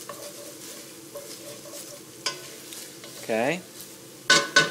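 Three cloves of garlic sizzle softly as they heat in a pan, a low continuous frying hiss with occasional utensil clinks and stirring, and a brief spoken word near the end.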